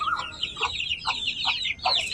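On a rooftop garden, a hen clucks softly in short bursts while her chicks keep up a continuous high chorus of peeping, close and moderately loud.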